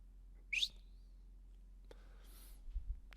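A woman's sharp, rising whistle calls to a hawk in a film scene, one short bright chirp heard alone against quiet background, followed later by faint rustling.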